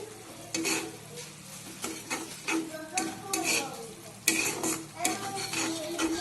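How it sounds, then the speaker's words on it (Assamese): A spatula stirring vegetables with garam masala and chilli powder in a pan, irregular scraping strokes and clinks over a soft sizzle, close and moderately loud. "এতিয়া এইখিনি লৰাই বগৰাই দিলোঁ।"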